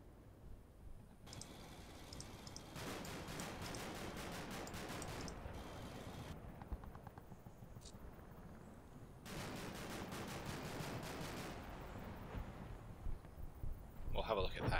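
Sustained rattling bursts of small-arms and machine-gun fire from the wargame Combat Mission come in two long stretches, moderately loud, with quieter gaps between them and someone talking over the shooting.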